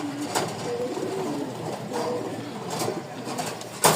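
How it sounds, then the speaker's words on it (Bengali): Pigeon chicks, young Giribaz squab with clipped feathers, coo in soft, repeated low murmurs close by, with a faint background hum and a sharp knock at the end. "তো এখানে 4 পিস কবুতরের বাচ্চা মাশাআল্লাহ।"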